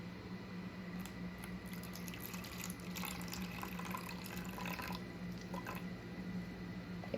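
Water being poured into sourdough bread dough in a kitchen, a soft continuous trickle and splash at low volume with faint squishy drips and no talking.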